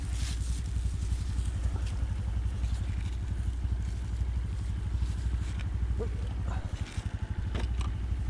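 The engine of a Brush Cub motorcycle runs with a steady, close, low putter and a rapid regular pulse throughout, dipping briefly toward the end.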